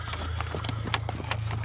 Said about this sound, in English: the sound of horses, a gang of them coming up in the distance.